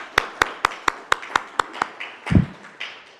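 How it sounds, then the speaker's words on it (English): Sparse, evenly spaced hand claps from a small audience at a city council budget workshop, about eight distinct claps close by, followed by a thump and some faint murmuring. "So a round of applause."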